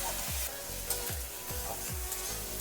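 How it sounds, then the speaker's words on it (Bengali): Tomato strips sizzling and frying in a pan with green chillies, a steady close crackle with a spatula scraping and stirring in a regular rhythm. "একটা টমেটো লম্বা লম্বা করে কেটে নিয়েছি, দিয়ে এগুলো একটু ভালো করে ভেজে নেব"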